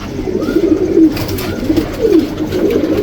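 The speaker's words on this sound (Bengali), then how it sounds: "এই যে একটা কবুতর এটা আমার কালেকশন করা কবুতর" Ice-coloured male pigeon cooing close by in a series of low, throaty, rolling coos that repeat with short pauses, without any talk.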